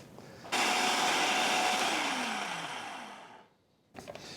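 A food processor whirs steadily at full power for about three seconds while pureeing thawed cherries, then winds down and stops, followed by a brief clatter.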